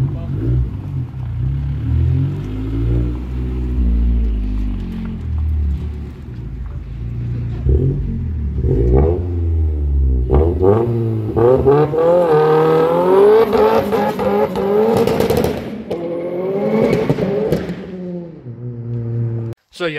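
A Toyota Hilux pickup revs hard during a dyno pull, its engine note sweeping up and down in loud, close, sustained surges before cutting off abruptly at the end.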